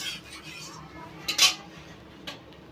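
A metal ladle presses water out of boiled ol (elephant foot yam) leaves in a bowl, giving soft squelching and scraping with a couple of sharp clinks against the bowl, close and fairly quiet.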